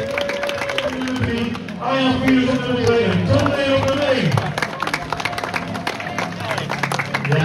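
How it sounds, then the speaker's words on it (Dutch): Crowd applause at the municipal cycling championship of Woensdrecht in the Netherlands, a steady spread of clapping and cheering throughout, under an announcer speaking over a loudspeaker. "Geef ze nog een daverend applaus voor de twee dames die de wedstrijd reden."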